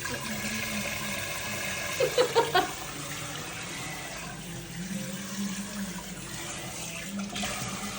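Water runs steadily as a goldfish bowl is washed, a soft continuous flow with a short burst of clinks and splashes early on, fairly quiet, with faint voices in the background.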